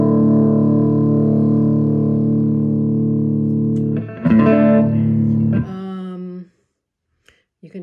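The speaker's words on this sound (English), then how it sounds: "This is gain, so that makes the distortion come in." A sustained, buzzing distorted guitar chord through a Vox Mini5 amp with gain turned up, followed by a shifting, gritty second chord that cuts off into near silence.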